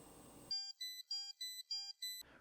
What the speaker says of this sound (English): the knife will stop itself with an overtemperature warning that looks and sounds like this